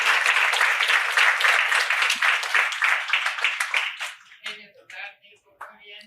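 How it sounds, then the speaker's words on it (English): An audience claps for a presenter at a technical conference session on DNS protocols, steady dense applause for about four seconds that then thins into scattered claps and a voice. "A round of applause for Nico, please."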